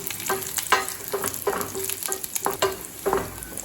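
Cashews and raisins fry in a small pan for moong dal payasam, a soft sizzle under a few quick, irregular stirring scrapes, close by with no voices.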